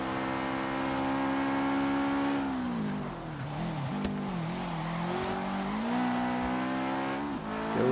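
A customized Subaru STI engine in Forza Horizon 3 revs and holds a loud, steady drone, dipping and climbing in pitch through gear changes, close and continuous with no talk.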